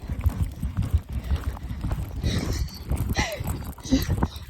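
Hooves of a horse at a canter, then a trot, on a road to a championship: rhythmic thudding beats close by, under a rider's continuous talk.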